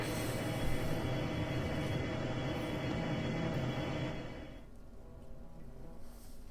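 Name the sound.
train riding in video game Shadowrun Dragonfall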